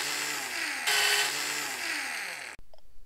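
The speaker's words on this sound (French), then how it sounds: "On perce le mur sur lequel on vient visser les montants métalliques." A power drill whines loudly and close up as it bores into a wall to mount metal uprights for a modern bookcase, the pitch shifting as it works, then cutting off abruptly.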